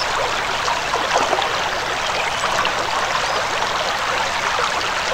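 Water runs steadily while an item is cleaned in the Anna video game, a continuous close splashing, trickling stream with no talking.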